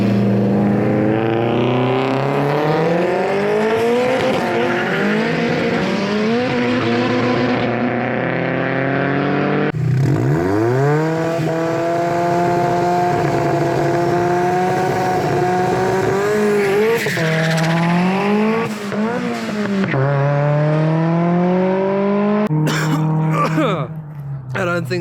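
A 2-litre TFSI Audi S3 roars around a race track, its loud engine rising and falling through gear changes for the whole stretch, with tyre squeal and brief skidding near the end.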